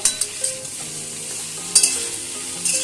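Mixed vegetables with spinach stir-fried in a pan, a steady close sizzle with a few sharp clinks and scrapes of the spatula against the pan, no voices.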